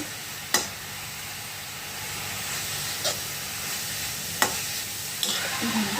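Food sautéing gently in ghee on a low gas flame, a soft steady sizzle with a few sharp clicks and scrapes of stirring spaced apart.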